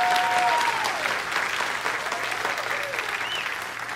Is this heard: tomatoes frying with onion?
no